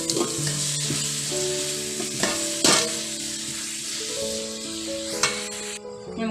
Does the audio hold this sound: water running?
no